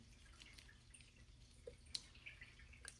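Water drips after a potted philodendron is watered, giving a few faint, irregular, close plinks over a low room hiss with no talking.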